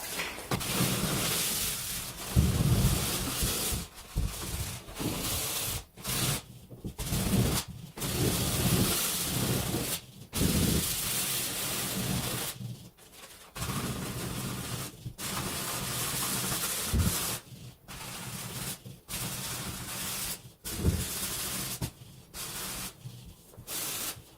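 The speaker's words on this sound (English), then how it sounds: "I'm going to sand this spot here" Hand sanding across a drywall scratch repair, a continuous scratchy rubbing of abrasive on compound that runs in long strokes with brief pauses, close and fairly loud, no talking.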